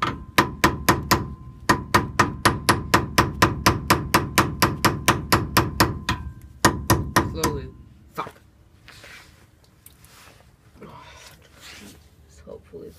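Rapid metallic hammer blows drive a wheel bearing into a Volkswagen T3 Vanagon, ringing out in a steady, even rhythm, loud and close, then stop, leaving faint rustling and handling noises.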